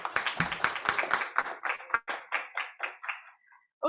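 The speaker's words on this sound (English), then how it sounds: "Let's give them a round of applause." An audience at a graduation ceremony for apprentices claps after top achievers are honoured: a small group of distinct, fairly close hand claps that thins out and stops within about four seconds.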